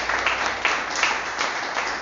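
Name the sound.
congregation applause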